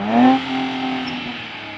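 A 2024 Nissan Z NISMO's six-cylinder engine rings out from outside the car, a smooth, loud rev that peaks early and settles into a steady, humming drone with no talking.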